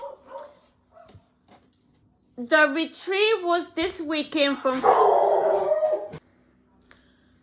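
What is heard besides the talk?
dog barking in response to another dog outside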